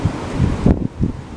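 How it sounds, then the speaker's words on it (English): Strong wind from Tropical Storm Nestor buffets the microphone in heavy, rumbling gusts at close range during a brief stretch with no talking. "It's so windy here today."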